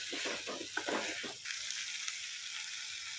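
Okra pieces coated in masala are stirred in a pan, giving a few brisk scraping strokes over a soft, steady sizzle that continues alone after the stirring stops.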